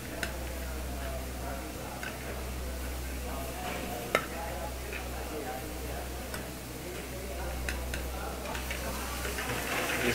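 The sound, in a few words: onion and garlic cooking in olive oil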